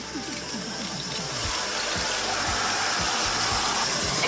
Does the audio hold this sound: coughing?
no